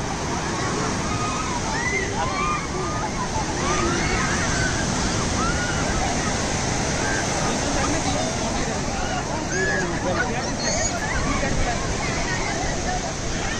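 Sea surf rolling in steadily at Gopalpur beach in Odisha on a crowded evening, with children bathing and a continuous babble of many voices mixed into the loud, unbroken wash of water.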